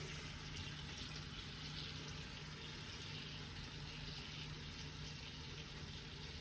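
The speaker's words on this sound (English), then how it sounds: "I'm gonna wash my hands for 20 seconds" Hands wash under a running tap, a steady, fairly faint stream of water splashing continuously without a break.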